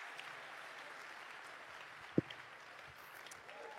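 Faint, distant audience applause at a sermon gathering, a soft, continuous wash of clapping with one sharp knock partway through.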